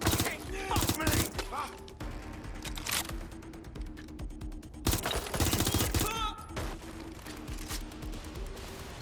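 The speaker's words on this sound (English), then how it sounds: "Target is firing!" Gunfire in the video game Watch Dogs Legion, with several loud volleys of rapid shots broken by quieter stretches of lower-level action, all fairly close and punchy.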